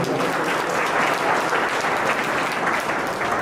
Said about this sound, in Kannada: ನಿಮ್ಮೆಲ್ಲರ ಜೋರಾದ ಚಪ್ಪಾಳೆ ಬರಬೇಕು